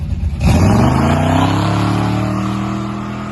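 A car accelerates hard from a standstill, its engine bursting in loud and close and then winding up in a rising, sustained roar that holds steady without letup.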